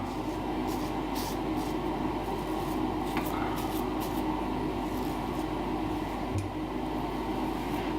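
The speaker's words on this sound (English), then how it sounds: "sorry about the noise, it's the fan." An electric fan runs steadily in a room where a man is shaving with a coconut shaving bowl, its continuous hum and whoosh holding close and fairly loud for the whole stretch, with a few faint clicks and scrapes on top.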